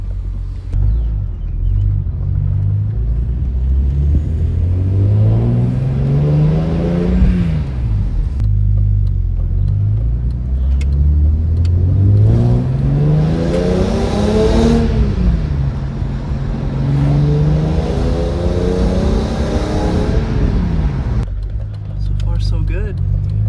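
A BMW E46 M3 with freshly replaced rod bearings driving gently, heard from the cabin as a loud engine rumble that climbs in pitch through several gears, easing off between shifts.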